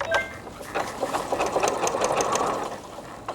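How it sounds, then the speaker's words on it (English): A sewing machine stitches a button onto a sheer crop top, its needle running in a quick, even mechanical patter for a few seconds, close and fairly loud, with no talking. "So that's going to stitch the button in place and lock off"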